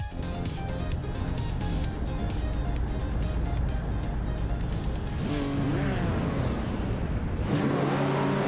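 Race cars on the Sydney Homebush Street Circuit drone steadily, with engines revving and a rising pass-by whine near the end, all close and loud.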